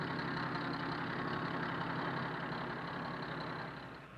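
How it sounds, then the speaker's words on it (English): A diesel truck engine runs at a steady idle, an even mid-low droning hum with faint rattle, continuous and fairly close, easing slightly at the end, no talking. "Expanding gases from burning fuel supply the power to drive this truck"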